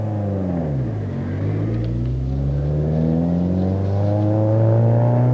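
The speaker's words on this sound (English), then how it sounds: "Despite their best efforts, it's Bjorn's car which pulls out first and heads for the time control." Rally car leaving service at the 1985 Ivory Coast Rally, its engine rumbling steadily and building in revs as it pulls away, fairly close and continuous with no talk.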